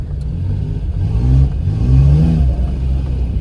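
Suzuki Jimny fitted with a cold air intake revs up loudly and close by, its engine note climbing and falling in a short, throaty burst.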